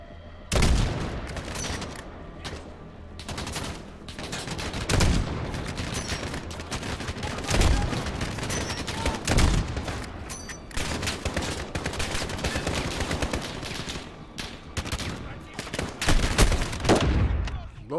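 Gunfire fills a Call of Duty Modern Warfare firefight: dense bursts of automatic rifle shots and sharp single cracks overlap in rapid, uneven volleys, loud and close, with heavier booms now and then.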